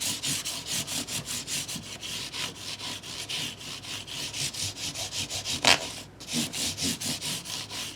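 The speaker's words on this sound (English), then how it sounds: "So again, my microfiber cloth here. Just run that over here a couple of times." A microfiber cloth is rubbed back and forth over guitar frets in quick, even strokes, a close rhythmic swishing with a brief clunk and pause near the end, no voices.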